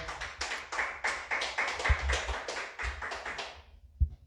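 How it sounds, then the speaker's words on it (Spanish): A church congregation claps together in a steady rhythmic burst of applause, loud and close, lasting several seconds before stopping abruptly, with a thump near the end. "Dele fuerte aplausos al Señor."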